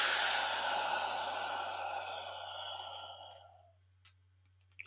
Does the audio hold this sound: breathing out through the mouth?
yes